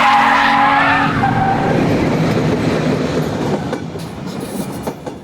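A train passing a railway crossing in Romania, loud and close at first with a broad rolling rumble and faint squealing tones, then slowly fading as it moves away.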